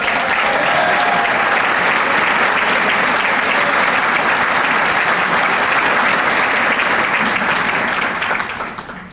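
Sustained applause from an audience at a mayor's State of the City address, greeting Chamber of Commerce board directors as they stand; dense, steady clapping fills the hall and tapers off at the end.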